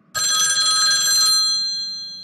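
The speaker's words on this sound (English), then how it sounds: "I have to answer the phone." A telephone bell rings once, loud and close, a bright sustained trill that stops after about a second and leaves a ringing tail.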